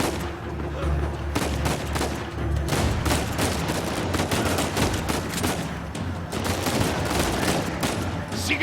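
Gunfire in the action game Uncharted 4, rapid bursts of loud overlapping shots over a low rumble, with voices talking in between.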